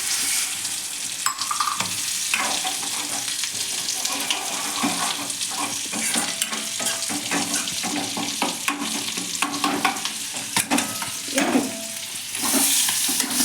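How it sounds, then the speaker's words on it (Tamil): Dried fish (karuvadu) frying in a pan gives a continuous crackling sizzle, with scraping stirs and a gush of running water close by throughout. "கருவாடு இந்த அளவுக்கு தான் நம்ம பொரிக்கணும்."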